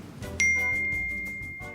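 Phone message notification: a single clear, bright ding that rings out and slowly decays over a soft musical background.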